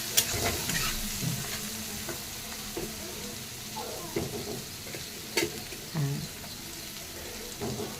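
Meal maker soy chunk curry with butter sizzles and fries in a pan while a spoon stirs it, steady close frying hiss with scattered scraping and clinking strokes, no talk.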